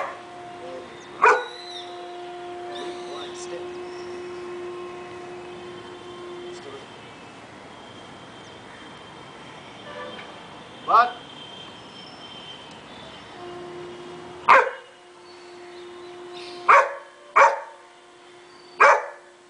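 A Great Dane barks on command, several loud single deep barks spaced apart, the last three coming closer together, over a steady background hum with a few other faint noises.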